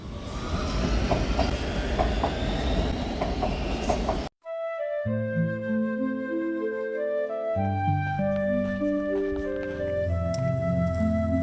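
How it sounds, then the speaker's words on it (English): An Oslo metro train rumbles and clatters past near a suburban station, steady rolling noise that gives way to a long, rising and falling electric motor whine as it moves off. "That's the metro that we're gonna take into the center of Oslo"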